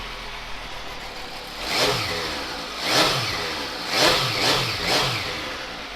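A 2013 MV Agusta F3 three-cylinder sports motorcycle idles close by, then gets five sharp throttle blips. Each rev rises quickly and falls back to a steady, busy idle, with no talk.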